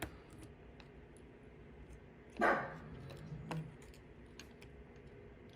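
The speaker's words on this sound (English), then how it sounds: "can hear my pug in the background." A single muffled pug bark sounds from somewhere off in the background, faint and brief amid quiet room noise and light ticking.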